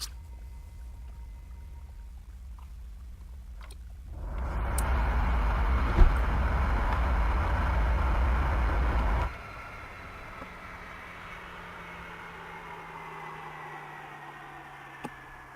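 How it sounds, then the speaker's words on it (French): Mirage 2000 C jet engines at an air base winding down: a steady loud roar with heavy low rumble cuts off abruptly, leaving a faint fading whine and quiet background. "Voilà, on va arrêter les moteurs."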